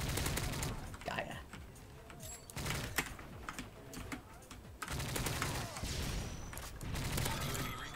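Faint rapid gunfire rattles in Call of Duty: Modern Warfare 3 multiplayer, quick bursts repeating through the stretch with keyboard clatter mixed in.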